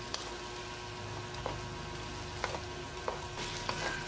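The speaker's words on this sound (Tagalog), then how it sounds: "Pwede na nating ibuhos dito yung ating tomato sauce. At saka natin ito haluin ng mabuti." Pork afritada with tomato sauce being stirred in a pan, a steady low sizzle with a few sharp clicks of a utensil scraping the pan at intervals.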